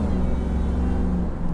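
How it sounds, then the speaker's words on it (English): A 1999 Ford Lightning pickup truck with its supercharger running, heard as a steady, loud engine rumble with a continuous whirring drone held close and constant throughout. "You can hear the supercharger."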